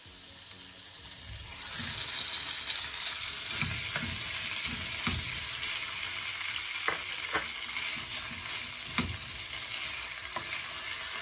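Marinated beef frying in a pan with softened onions, a steady loud sizzle with scattered scrapes and knocks of stirring.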